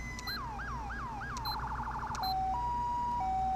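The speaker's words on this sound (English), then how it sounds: "I only have like a Q siren installed right now." A Q-style fire truck siren in GTA 5 winds up and down in four rising-falling sweeps, breaks into a rapid yelp, then switches to a steady two-tone hi-lo pattern, loud and unbroken with no talking.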